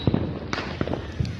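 A Saturn missile firework battery going off at a Fourth of July celebration in Cheyenne, Wyoming, heard as a few scattered sharp pops and crackles over steady outdoor background noise.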